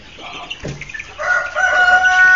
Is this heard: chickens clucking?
yes